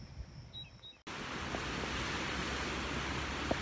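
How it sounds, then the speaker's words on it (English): After a brief quiet start, a loud, steady roar of rushing water in Boulder Canyon fills the rest, a dense continuous wash of noise close by with no talking. "I hope you can hear me over the roar of the water"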